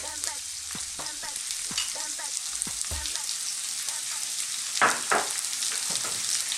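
Sliced onions and chopped garlic frying in a pan for a lasagna meat sauce, a steady close sizzle broken by occasional stirring scrapes and clicks.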